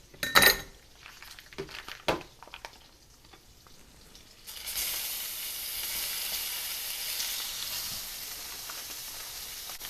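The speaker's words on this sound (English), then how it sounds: "Now we're going to cook our beef tips." Beef steak tips hit a hot pan: a few clinks of utensils and handling first, then a steady, bright sizzle that carries on evenly to the end, close and with no talking.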